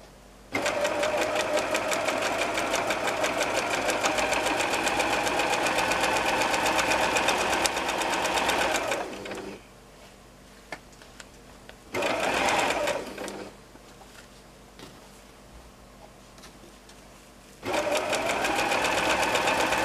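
Sewing machine stitching a quilt-as-you-go quilt in loud, close bursts of rapid rhythmic rattling, a long run of about eight seconds, a short burst, then a pause before it starts again.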